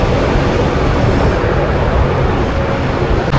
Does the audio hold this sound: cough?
no